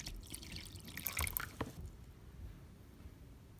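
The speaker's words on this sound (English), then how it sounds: "we're just going to water this guy from the back before we get mounting" Water poured into the back of a WallyGro vertical garden planter indoors, a brief soft splashing and dripping burst that tails off into quiet trickles, fairly faint and without talk.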